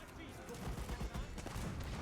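Cannon fire in the Age of Empires 4 game, set in the Hundred Years War, comes as repeated booming blasts in a dense, continuous barrage of low rumbling shots, with other battle noise running underneath.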